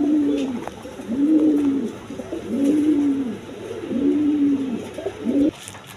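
A pair of red Danish pigeons, male and female, cooing close by: four rolling, rising-and-falling coos in a steady rhythm, clear and fairly loud over a quiet background.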